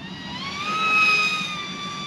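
A small sub-250g DIY RC plane motor whines in flight, a thin steady high-pitched buzz that swells slightly and fades, moderately faint with no voices.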